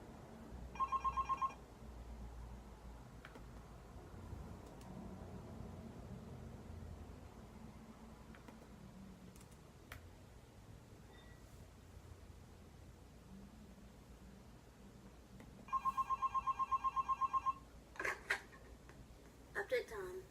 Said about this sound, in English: right where the phone starts ringing